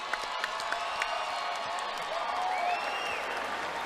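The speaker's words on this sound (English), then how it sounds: "how about a nice round of applause for another good amateur showing here tonight?" A crowd at an amateur MMA fight night applauds and cheers, with dense clapping, scattered whoops and shouts filling the hall, loud and steady throughout.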